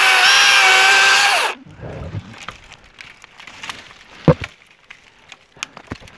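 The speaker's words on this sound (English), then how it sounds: "I love this electric chainsaw." An electric chainsaw whines loudly and steadily cutting a honeysuckle stem, then stops abruptly, leaving faint rustling, scraping and a few soft knocks.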